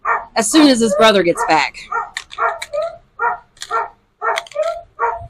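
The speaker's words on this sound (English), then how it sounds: "If you hear my dog crying in the background" A hound dog cries and whimpers in a yard at the start, giving high, wavering yelps close by, then a person keeps talking over the remainder.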